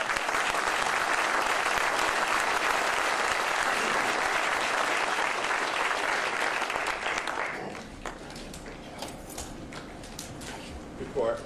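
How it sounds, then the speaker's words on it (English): Applause from the audience at an FAA safety summit held after recent near-collisions, loud, dense clapping that fills the room, then thins and fades into scattered claps and murmuring near the end. "could we just give a round of applause to these really great"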